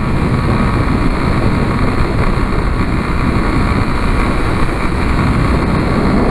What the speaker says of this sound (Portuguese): Só pra escutar o escape